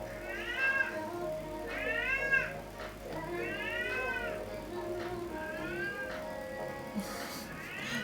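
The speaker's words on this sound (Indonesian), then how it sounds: "Kucing lapar nggak lapar guys, dia emang suka kayak gitu." A pet cat meows about four times in a row, insistent and fairly close, with short gaps between calls over a low room hum during a live chat stream.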